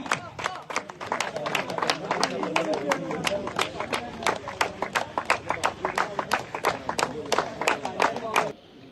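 Crowd clapping for invited guests at a sports medal ceremony after a final match, a dense steady patter of many hands that runs for several seconds and then stops abruptly.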